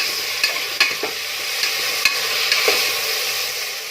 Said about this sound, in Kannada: ಈಗ ಟೊಮೊಟೊ ಸ್ವಲ್ಪ ಫ್ರೈ ಆಗಿದೆ ಫ್ರೆಂಡ್ಸ್.